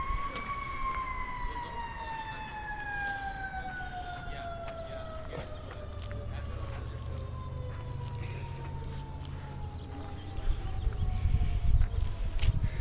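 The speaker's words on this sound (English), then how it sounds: "We let these sirens go by real quick" Sirens wail with a slowly falling pitch as emergency vehicles pass, fairly distant, with traffic rumble growing louder near the end.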